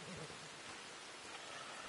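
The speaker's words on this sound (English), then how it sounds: "how that rain just started. It started slow and then picked up" Rain in Red Dead Redemption 2 begins as a faint, steady hiss of falling drops, soft and even throughout, with a low rumble underneath.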